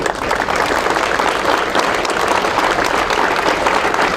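An audience at a Turkish public gathering applauds steadily and densely throughout, a loud, sustained wash of clapping with no clear voices above it.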